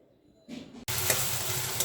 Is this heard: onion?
yes